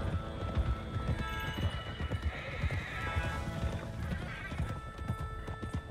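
Horses' hooves clopping in a fast gallop in Red Dead Redemption 2, with a neigh rising over them, continuous and moderately loud, with a game-like mixed quality.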